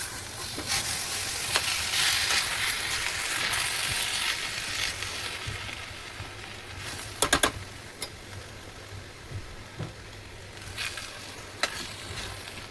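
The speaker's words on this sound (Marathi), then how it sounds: "आता आपण ह्याला परतून घेऊया." Eggplant and potato curry sautéing in a pan gives a steady, close sizzle, with spatula scrapes and clicks breaking through now and then over about thirteen seconds.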